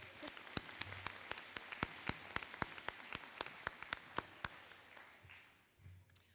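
Applause for elected officials at a college graduation ceremony, a soft diffuse crowd clapping beneath a string of loud, sharp claps close by in a quick regular rhythm that stops abruptly, leaving low room rumble.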